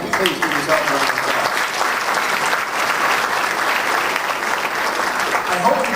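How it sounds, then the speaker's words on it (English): A political gathering in Toronto with John Tory, leader of the Ontario PC Party, breaks into sustained audience applause. It is a full, even roar of many hands clapping that continues unbroken from start to finish. "please give yourself a round of applause."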